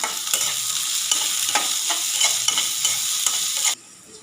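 Beans frying in a pan with a steady sizzle and regular stirring scrapes repeating about every half second, close and clear, ending abruptly near the end.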